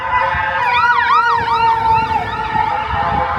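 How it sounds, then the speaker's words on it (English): A loud Jewish community ambulance passing close on a Brooklyn street, its siren cycling through rapid yelping sweeps before settling into a steady high tone, with traffic noise beneath. "I bet you it's an ambulance"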